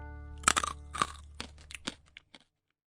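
Someone bites into a roasted chipmunk snack from Vietnam, giving a quick run of sharp, crisp crunches up close, loud at first, then thinning out into silence.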